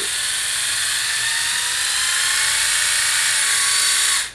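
A Braun Silk-épil 7 electric epilator runs with a steady, loud, high-pitched motor whine that holds for about four seconds before cutting off, close by and alone.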